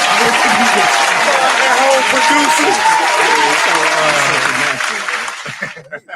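Loud applause from a crowd fills the clip, with voices mixed in, then thins out and fades near the end.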